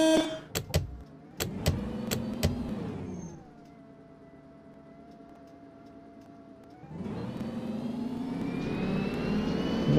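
City bus engine in the OMSI 2 driving simulator, a few sharp clicks at the start, then the motor drops to a low idle hum before swelling again as it accelerates, rising steadily in pitch and loudness toward the end.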